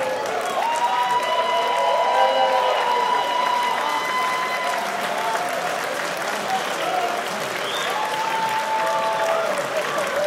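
A wrestling crowd at a wXw Fight Forever match applauds and cheers steadily throughout, a dense sustained roar of clapping with voices rising and falling, while a commentator talks over it.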